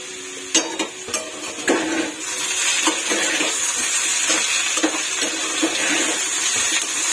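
Potatoes frying in a pan are stirred, a spoon clinking and scraping against the pan in a few sharp knocks at first, then settling into a steady, close sizzling hiss with occasional soft scrapes.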